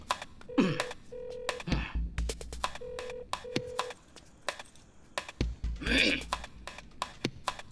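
A mobile phone being dialed for a video call, a series of short electronic tone beeps in uneven bursts, interspersed with a burp-like vocal noise and background movement sounds in a film scene.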